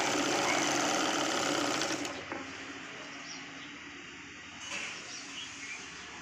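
A sewing machine stitches the shoulder seams of a Punjabi dress top, running in a fast, steady close whir for about two seconds, then stopping, followed by a quieter brief burst later.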